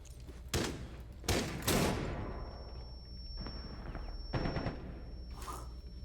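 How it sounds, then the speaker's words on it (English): Gunfire in a video game: several loud, sharp shots and short bursts echo at irregular moments over a low, rumbling background, with a thin steady electronic tone in between. "did he just try and shoot him through a mirror?"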